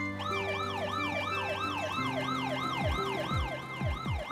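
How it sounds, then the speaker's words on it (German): A cartoon ambulance pulls out of a yellow garage with a loud, steady, wailing two-tone siren that rises and falls in a rapid repeating cycle over engine hum, and no one talks. "Aus der gelben Garage fährt ein Krankenwagen raus."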